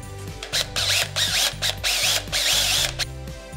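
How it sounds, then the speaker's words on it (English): Bursts of a power drill whining and grinding through a metal rivet, drilling out its top, starting and stopping in short pulses with a chattering mechanical rattle. "and then drill out the top portion"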